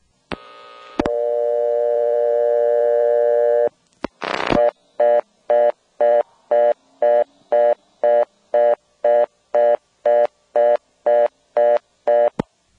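A steady telephone tone holds for a few seconds, then after some clicks a rapid, evenly pulsed reorder tone from a step-by-step exchange on a blocked level beeps on and off repeatedly, loud and clear.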